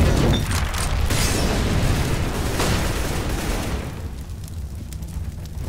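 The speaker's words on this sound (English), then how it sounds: "I'm throwing a flashbang." An in-game grenade explosion in Counter-Strike: Global Offensive booms loudly and close, with a broad rumbling blast that decays over several seconds into a quieter tail.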